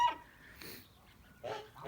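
Kholmogory breed geese honk in short bursts, a couple of calls near the start and louder ones toward the end, close by with quiet pauses between.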